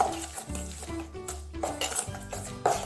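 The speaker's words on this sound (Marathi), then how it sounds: "आता हे सर्व साहित्य आपण चमच्याने मिक्स करून घेऊया." A metal spoon stirs a bowl of soaked mung dal with turmeric, chili flakes, ajwain and salt, making rapid close scraping and clinking against the bowl in an uneven, continuous rhythm with no voices.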